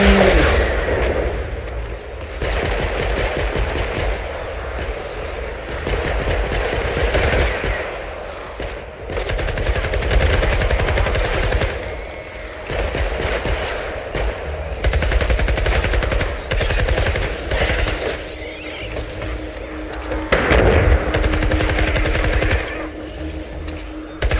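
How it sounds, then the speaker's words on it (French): Sustained rapid automatic gunfire in the Fortnite Save the World mode, a dense, loud continuous rattle from a minigun-like weapon with only brief pauses across the whole stretch. "crois que c'est pas le même fusil d'assaut que celui de base"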